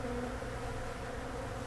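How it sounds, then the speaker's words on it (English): Dense, steady droning hum of a large mass of honey bees during a big hive removal of a two-to-three-year-old colony in Pasadena, Texas, continuous and close with no pauses. "They have a lot of bees."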